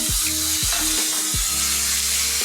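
Onion and ginger paste hits hot oil tempered with bay leaf, a loud steady sizzle and hiss close up, with a few low scraping stirs underneath.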